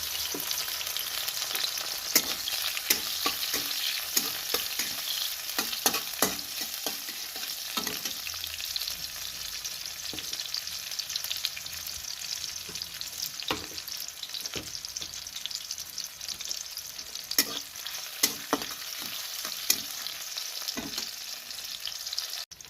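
Chopped onion sizzles steadily in hot oil in a pan while an Odia kosala saag curry with cumin, garlic and ginger is cooked, with occasional stirring scrapes and crackles, close and continuous, with no voices.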